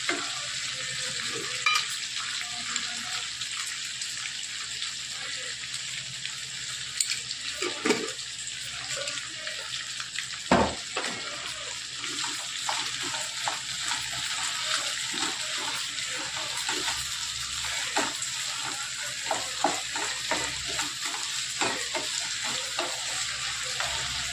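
Salted food fries in a pan until it turns brown. The sizzle is a continuous dense hiss, broken by occasional scrapes and stirring clatter, steady and close throughout.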